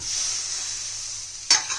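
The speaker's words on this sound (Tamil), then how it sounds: "தக்காளி சேர்த்துட்டு இதை லைட்டாக வதக்கிடுங்க" Steady gentle sizzle of tomatoes sautéing in a pan, broken by one sharp scrape of a spoon near the end.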